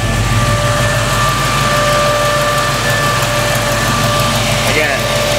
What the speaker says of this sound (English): So I'm gonna wanna give this a little bit more curb idle.